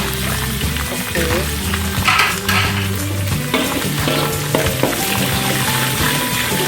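Two eggs scrambled and stirred in a hot frying pan for Indonesian village-style fried rice, with a steady loud sizzle and scraping stir strokes throughout, close up.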